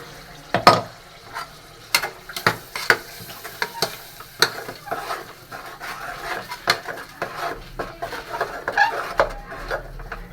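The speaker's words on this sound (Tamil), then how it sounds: "இதையும் நல்லா நம்ம வதக்கிடணும்" A ground masala paste fries in a pan for channa masala, with a spoon scraping and stirring in irregular strokes over a soft, continuous sizzle.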